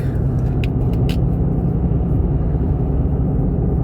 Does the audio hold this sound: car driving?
yes